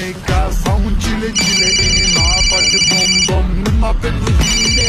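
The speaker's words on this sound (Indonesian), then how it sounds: "Ustazah, boleh nggak aku angkat telepon Ustazah?" A mobile phone ringtone plays in repeated bright tonal bursts, loud and close, over people talking and busy background sound.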